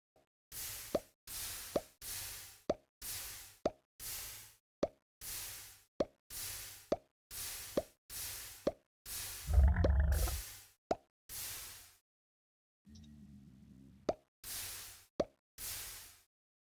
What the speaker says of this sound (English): the sound that an item makes when you throw it into lava is supposed to be consistent now